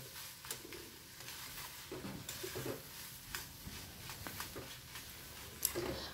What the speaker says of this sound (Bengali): এই যে তেলটা দেওয়ার পরেও আমি বেশ খানিকক্ষণ কষবো